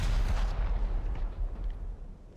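A couple of deep, muffled booms from cannon fire in the video game War Thunder, the first strongest, followed by a rumbling low tail that fades out.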